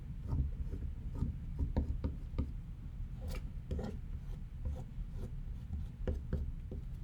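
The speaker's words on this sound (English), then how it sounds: "See how I can draw with the eraser?" An eraser drags across paper on a drawing, drawing lines in short rubbing and rasping strokes, close and steady, with no talking.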